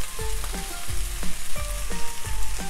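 Eggplant pieces fry in oil in a pan, a close crackling sizzle broken by regular metallic clinks and scrapes of stirring roughly every half second.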